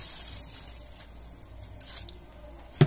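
Alcohol poured over soap shavings for homemade soap with baking soda, a soft close liquid trickle and faint splashing, quiet, ending on a brief sharper knock, with no talking.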